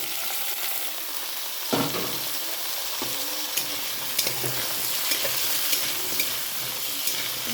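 Potato and tomato fry lightly in a pan with a steady bright sizzle, as a sharp scrape and then repeated clicks and knocks of stirring punctuate the crackle.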